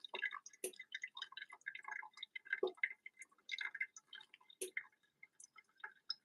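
Hot water poured over ground coffee in a V60 pour-over dripper, with light trickling and dripping and small ticking taps, soft and close with brief gaps.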